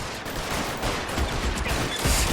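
Gunfire in the video game L.A. Noire: a dense, continuous burst of rapid shots that fills the whole stretch, loud and unbroken, with no voices over it.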